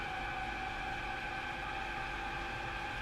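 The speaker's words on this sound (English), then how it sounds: "Sounds like an air raid siren." A train in the Train Sim World video game gives off a steady wailing tone like an air raid siren, continuous and loud over a constant hiss of noise.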